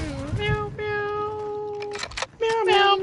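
A person imitates a cat, giving a few drawn-out, tonal meows one after another, loud and close, with a brief pause between calls.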